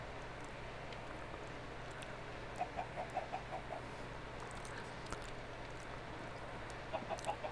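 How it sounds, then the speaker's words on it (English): Chickens in the Minecraft video game give short clucking bursts in two brief runs over a steady low background hum, fairly faint and with no talk. "My chickens are chirping."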